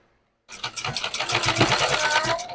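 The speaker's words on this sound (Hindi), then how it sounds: "अब हम सिलाई कर लेते हैं।" An electric sewing machine stitching a palazzo starts after half a second of silence, then runs in a fast, steady rhythmic whir and needle clatter, close and moderately loud, with no talking.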